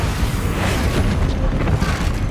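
Bombarda explosion spell cast in the video game Hogwarts Legacy, a loud, dense booming blast with crackling debris sustained through the whole short moment, no talk over it.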